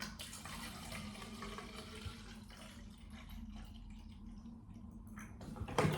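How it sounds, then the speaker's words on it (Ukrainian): Water poured from a jug into a reusable drinking bottle indoors, a steady soft gurgling and splashing stream lasting several seconds, ending with a brief clink. "Якщо я десь буду ходити постійно брати цю бутилку, переливаю туди воду."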